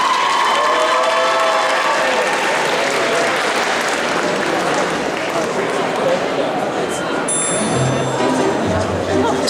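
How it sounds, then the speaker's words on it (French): Audience applause and crowd noise at a cosplay contest and parade, a dense clapping wash with scattered cheers, while voices talk over it and a brief tonal ring appears near the end. "On applaudit très fort Miss Sao s'il vous plaît"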